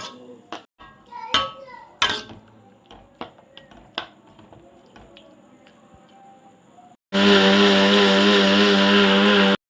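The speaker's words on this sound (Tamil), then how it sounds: "ஆற வச்சு மிக்ஸி ஜாரை போட்டு ஆட்டி அடியட்டி எடுத்துக்கிடுவோம்" Clinks and knocks of kitchen handling, then a loud, steady electric whirr of a mixer grinder blending cooked tomatoes, running continuously close by for the last couple of seconds.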